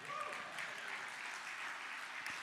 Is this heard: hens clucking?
no